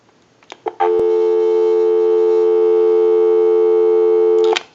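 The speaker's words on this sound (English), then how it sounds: "Go ahead and give you some dial tone." A steady Western Electric Princess telephone dial tone hums continuously for several seconds, loud and clear, after a few brief clicks at the start.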